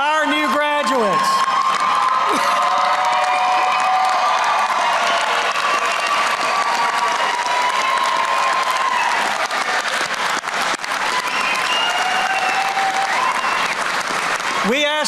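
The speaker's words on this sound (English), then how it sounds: "Audience, please stand and applaud our new graduates." A large standing audience at a 2024 community college graduation ceremony bursts into loud, sustained applause for the new graduates, mixed with cheers and whoops; a voice over the sound system speaks briefly at the start and end.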